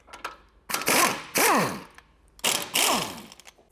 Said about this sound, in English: you can go ahead and remove the bolts for the front sway bar